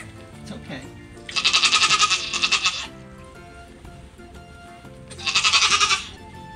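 A newborn bay goat kid gives two loud, close, quavering bleats, the first long and wavering and the second shorter after a pause, with faint background noise between.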